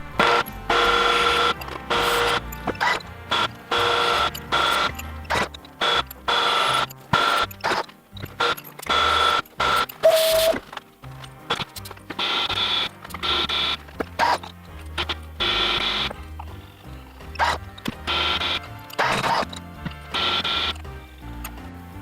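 A milling machine drills a 70mm four-bolt pattern into a DIY billet flywheel for a minibike, producing busy, irregular clattering and whirring bursts that stop and start repeatedly, loud and close throughout.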